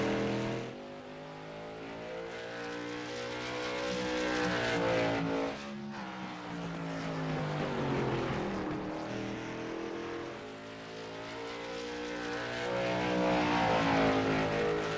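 Race car engines drone and rise in pitch through a long continuous whine as cars lap a 0.4-mile oval at New Smyrna during qualifying in a racing sim video game, loud and steady with no talk.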